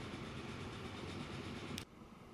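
A freight train in the video game Transport Fever 2 rolls past with a steady, dense rumble. The rumble stops abruptly near the end, leaving quieter background sound.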